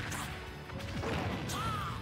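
Up smash attacks landing in a Super Smash Bros. match against Greninja and Bowser, with heavy crashing impacts and whooshes over the game audio and crowd noise.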